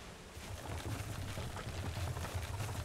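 Broad, steady rushing of river water in the video game Valheim, a continuous wash that swells in after a quiet start and holds at moderate loudness with no talk over it.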